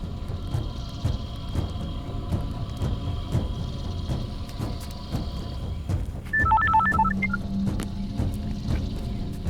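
A telephone rings repeatedly with no one picking up, faint electronic tones partway through, over a steady low background hum.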